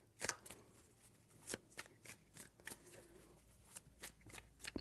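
Tarot cards are shuffled in a quiet room, with a series of soft, crisp riffling snaps and flutters spaced irregularly over a few seconds, faint and close.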